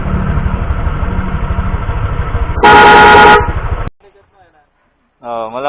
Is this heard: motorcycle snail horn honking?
yes